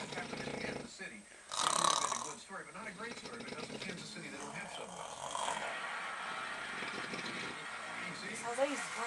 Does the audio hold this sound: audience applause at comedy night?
no